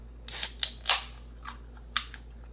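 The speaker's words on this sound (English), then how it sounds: "Then you open your soda." A soda can is opened for a homemade cherry Diet Coke, giving a few sharp metallic clicks and a hissing pop-and-fizz burst in quick succession, close by and without talk.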